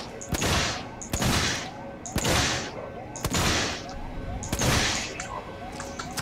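Weapons firing in the survival horror game Alien Isolation, four loud, sharp shots spaced about a second apart, each with a booming tail, under someone talking.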